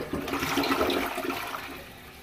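A toilet just reseated over a void flushes close by, a loud rushing of water that surges and then slowly tapers off over a couple of seconds, with no talking.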